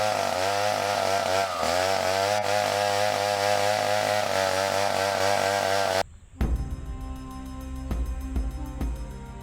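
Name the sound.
chainsaw cutting tree branches in rainforest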